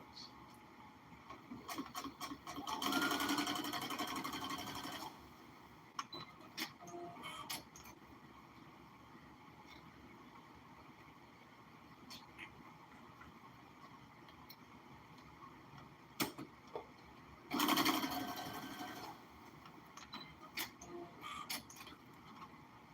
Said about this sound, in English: I start off with a straight stitch first, and then I'll do a zigzag stitch.